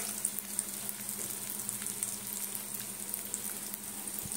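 Banana flower chops frying in hot oil, a steady soft sizzle with faint crackle running throughout, close by and alone with no talk.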